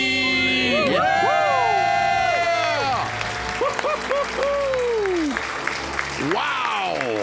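A studio audience for a live call-in radio show cheers, whoops and applauds after a couple's debt-free scream, loud sustained shouts with rising and falling voices over steady clapping, fading into scattered claps.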